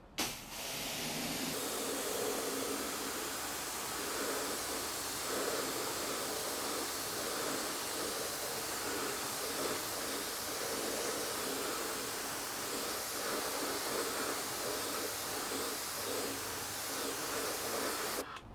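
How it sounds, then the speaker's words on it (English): Water spraying from a hose or pressure washer over a glossy car wheel and tire, a steady loud hiss that runs nearly unbroken from start to finish, close up, no talking. "I just finished rinsing down the face of the wheel and tire"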